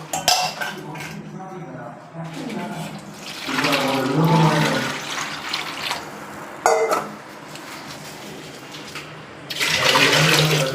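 Water pours and splashes into a pan with semolina for kesari in bursts, with pots and utensils clinking close by.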